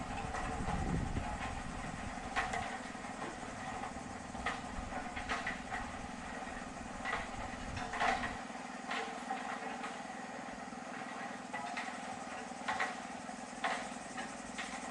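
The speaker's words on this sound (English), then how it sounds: "the airform custom fabricated to the exact dimensions of the dome is securely attached to the ring beam and inflated using blower fans" Blower fans inflate a custom-fabricated airform dome attached to a concrete ring beam on a construction site, giving a steady mechanical rumbling drone with some clanks and knocks on top, continuous and moderately loud.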